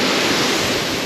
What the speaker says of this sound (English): We're up on the falls now.